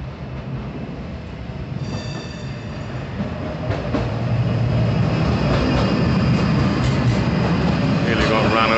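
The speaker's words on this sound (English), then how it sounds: "Nearly got ran over by a tram." A city tram rolls by on a street in Wrocław, its rumble building from moderate to loud and close, with wheel squeal and rattling over the rails, while people talk underneath.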